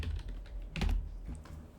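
Short burst of computer keyboard typing as a file name is entered, a quick run of close, light key clicks with no talking.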